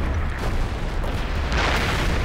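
Deep, rumbling explosions in Medal of Honor Airborne boom in a dense, continuous roar, loud and close, with a brighter burst near the end.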